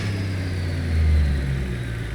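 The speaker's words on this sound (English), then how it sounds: "You can hear the whine of the turbo." Truck engine idling steadily in American Truck Simulator, a low continuous drone with a faint high turbo whine above it and a brief swell of revs midway, heard alone with no talk.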